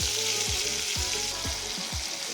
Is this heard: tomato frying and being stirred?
yes